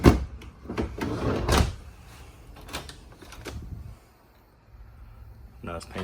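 Freezer drawers of a residential refrigerator in a 2022 Forest River Wildcat 36-foot RV kitchen sliding open and shut, a few close rattling thumps and clacks early on, then quieter handling noises with a voice speaking.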